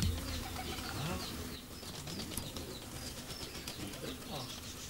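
Birds at Hermann Hensel's house, pigeon- or dove-like cooing and some wing flapping amid a busy, steady background, with faint voices underneath.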